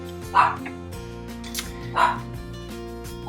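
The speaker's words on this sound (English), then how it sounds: "He is barking because people are walking by." A dog barks a few times at spaced intervals, moderately close, over a steady background hum.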